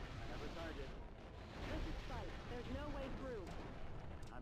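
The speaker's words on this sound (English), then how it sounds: "I'm taking enemy fire." Mech weapons fire in a battle in MechCommander Gold, a dense, continuous barrage of booming shots and blasts with sweeping, whining tones over it and voices talking throughout.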